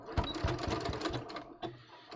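A sewing machine stitches along the top edge of double-faced linen knit shorts, running in quick mechanical bursts with a brief pause before it starts again.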